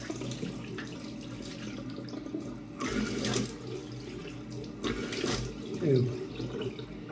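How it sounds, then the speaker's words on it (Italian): Badger shaving brush being wetted under running water from a tap, a steady close splashing stream that swells into louder gushes a few times. "con un tasso assolutamente valido, che andiamo a bagnare, come bagniamo anche il viso"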